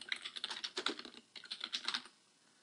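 Rapid, uneven keystrokes on a computer keyboard, close and fairly quiet, clattering for about two seconds before stopping.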